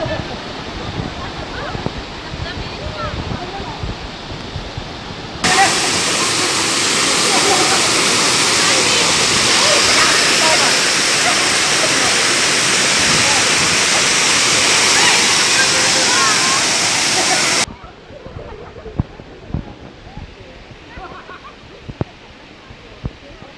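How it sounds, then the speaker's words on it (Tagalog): Likid Falls, a waterfall in Claveria, Cagayan, roars as a loud, steady, broadband rush of falling water close by, sustained for several seconds before cutting back to quieter ambient water noise. "Liquid Falls from Claveria."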